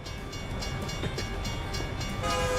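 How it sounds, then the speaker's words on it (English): Train rolling past in American Truck Simulator, a steady dense rumble with faint rail clatter and a tonal horn-like hum rising near the end, continuous and fairly loud with no talk. "Oh, there's the train."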